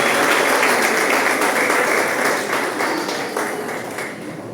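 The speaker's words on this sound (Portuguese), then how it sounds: "Recebe com palmas bem alegres para Jesus nesta noite" Church congregation applauding during an evening service, a dense sustained burst of clapping close and loud that slowly fades toward the end.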